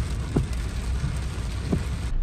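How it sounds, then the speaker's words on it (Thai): Steady rain falls at a weir in Khon Kaen, Thailand, a continuous broadband patter with a couple of faint low thumps and no talking. "ฝนตกอยู่นะครับตอนนี้"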